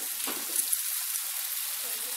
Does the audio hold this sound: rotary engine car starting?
no